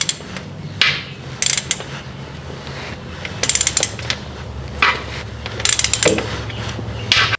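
A drain plug bolt is threaded back into a Chevrolet Colorado/GMC Canyon transmission pan with a ratchet, giving bursts of quick metallic clicking separated by short pauses, close and fairly loud.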